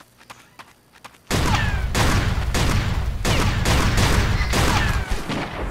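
Sustained burst of gunfire in the mobile shooter Counter-Strike Portable, loud and close, kicking in abruptly after a quiet moment and continuing as dense overlapping shots.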